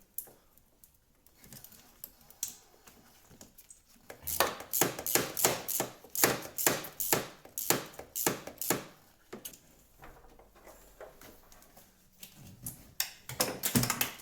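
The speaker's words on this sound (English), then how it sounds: "let's just wrench on these hose clamps here a tad" A wrench works on hose clamps at a car heater core, giving a rapid run of sharp metallic clicks and taps in quick rhythm, close and fairly clear, with quieter pauses before and after.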